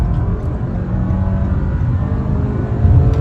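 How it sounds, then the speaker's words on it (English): A 2022 Toyota Camry LE accelerating hard in first gear, heard from inside the cabin as a loud, steady engine drone and road rumble that rises slightly toward the end. "We'll try a acceleration with these manual shift controls one time. First gear, and on the gas."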